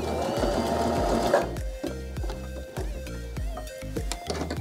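A Baby Lock Joy sewing machine stitches fabric, first in a fast continuous whir, then in short bursts of slower, rhythmic needle strokes with brief pauses between them, close and clear.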